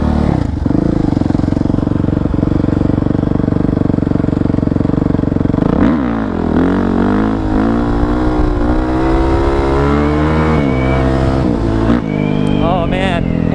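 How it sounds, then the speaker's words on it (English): Dirt bike engine droning steadily while a rider pulls wheelies, with the pitch rising and falling in revs over the second half, loud and close throughout. "My first wheelies on a proper dirt bike."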